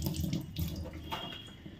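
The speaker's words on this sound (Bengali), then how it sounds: "হাতটা ধুয়ে নিই।" Water from a running tap pours over hands being washed at a sink, a steady close splashing with small shifts as the hands move through the stream.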